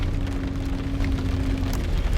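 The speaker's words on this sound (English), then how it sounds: "It is raining outside today" Rain falls outside as a steady, continuous hiss, with a low hum running underneath through most of the stretch.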